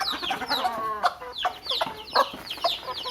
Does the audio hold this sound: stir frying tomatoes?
no